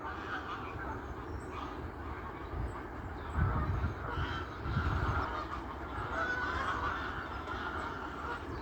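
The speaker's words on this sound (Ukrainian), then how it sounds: "там дуже багато гусей, ось вони там гогочуть і радіють" A flock of geese on an island near Bingen am Rhein honking and cackling at a distance in spring, a steady chorus with a few louder bursts standing out from the background.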